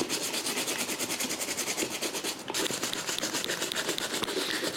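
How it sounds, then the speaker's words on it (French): A brush scrubbing pure soap into a Red Wing leather boot, a close, continuous rhythmic bristle rasp with quick regular strokes that never pauses. "on va prendre du savon pur et on va brosser la chaussure"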